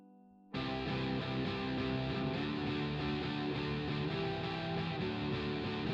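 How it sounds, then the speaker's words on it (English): A distorted electric guitar run through a processing chain kicks in abruptly after a short low tone and then rings out as a loud, dense, sustained wall of saturated chords, steady and continuous with no voices. "we don't need to have compression on these two distorted guitar"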